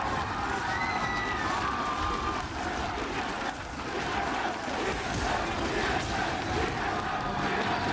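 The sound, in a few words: arena crowd cheering at esports match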